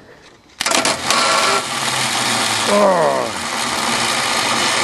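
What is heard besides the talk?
1977 Dodge van engine cranking on a winter start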